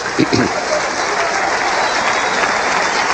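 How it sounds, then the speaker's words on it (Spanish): A church audience breaks into loud, dense applause that continues evenly throughout, with a few sharper claps near the start. "Démosle un aplauso al Rey bendito."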